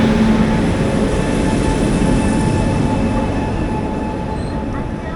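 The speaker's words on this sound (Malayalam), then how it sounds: "ഗരീബ് രഥ് എക്സ്പ്രസ് ആണ് ബോംബെയിലേക്കുള്ള" Garib Rath Express train to Bombay rolling along at a station platform, a steady loud rumble of wheels and carriages with a faint tonal hum, easing slightly toward the end, no voices.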